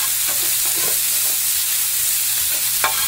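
Onions frying in a pan while burger patties cook for a patty melt, giving a steady close sizzle with a few faint stirring clicks and a brief scrape near the end, with no talking.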